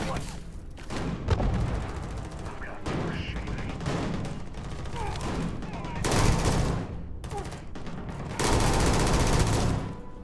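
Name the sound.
gunfire from the player's gun in the Starfield video game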